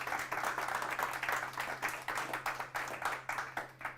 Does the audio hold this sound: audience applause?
yes